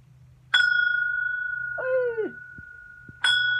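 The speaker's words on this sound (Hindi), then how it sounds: "बजाएगा घंटी, बजा दे" A metal temple bell is struck twice, each a loud clear ring with a sustained tone that slowly decays. Between the strikes comes a short wavering, hooting vocal sound.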